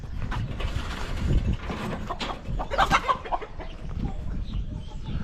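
Chickens cluck and cackle in a coop beside a former cowshed, several birds heard close by in irregular bursts with some rustling in between.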